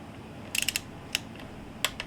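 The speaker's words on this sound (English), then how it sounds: "So I just got done torquing these down" Torque wrench tightening bolts on a Honda B-series engine in an EF Civic, giving a few quick ratcheting clicks and single sharp clicks, close but fairly quiet with no talking.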